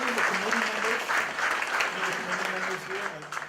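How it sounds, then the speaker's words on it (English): Attendees at a community event on building trust between police and the public give a round of applause, a moderate wash of clapping with voices mixed in throughout. "So I'd like to at least give them a round of applause."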